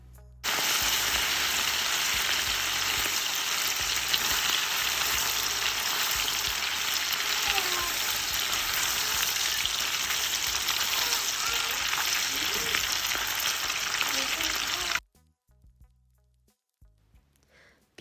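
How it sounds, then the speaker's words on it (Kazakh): Marinated meat for Uyghur lagman fries in hot oil over a high gas flame, giving a loud, dense, continuous sizzle that holds for about fifteen seconds and then cuts off abruptly to near silence. "Майымызды қыздырып аламыз. Манағы маринадталған етті үстіне саламыз."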